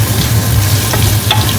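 Chicken gizzard sizzles in hot oil alongside sautéed onion with chili garlic, a loud, close, continuous frying hiss with a few stirring scrapes.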